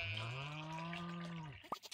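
In the video game Stardew Valley, a sheep gives a single long, clear bleat lasting well over a second, followed by a few short clicks and soft game sounds.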